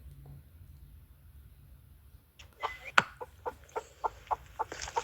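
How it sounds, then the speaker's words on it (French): A rooster or similar fowl gives a run of about ten short, evenly spaced clucking calls, fairly close and moderately loud, starting after a quiet stretch. "il y a un coq ou bien je ne sais qui dit pac, pac, pac, pac, pac, pac, pac, pac"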